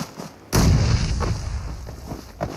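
A grenade explodes in a battle royale video game: a sudden loud boom breaks in after a quiet moment, then rolls on as a dense, sustained rumble that fades slightly toward the end.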